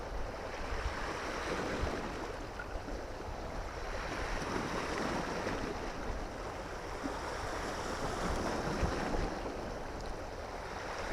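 Tidal river water of the Humber estuary rolling in, a steady broad rushing wash of water with wind noise buffeting the microphone, continuous and fairly loud with no talk.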